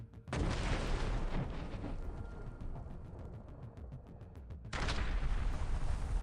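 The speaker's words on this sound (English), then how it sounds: "Artillery units attached to the 245th Regiment in the Kharkiv region struck a Ukrainian armed forces position that had been identified." Artillery fire strikes an identified Ukrainian armed forces trench position in the Kharkiv region, a loud sustained roar of blasts and rumbling that fades slightly midway, then surges again near the end, with no voices.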